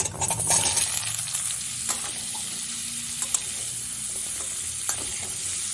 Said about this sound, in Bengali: আলু আর ডাঁটাটা আমি 1 মিনিট মতো ভেজে নিলাম